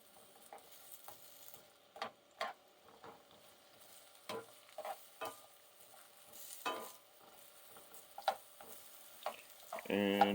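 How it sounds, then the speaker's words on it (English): Vegetables for a pub-style shepherd's pie sizzle quietly in a pan while being stirred, with scattered scraping clicks and taps from the utensil over a low hiss, ending in a slightly louder burst. "So I'm stirring that up right now while this is cooking."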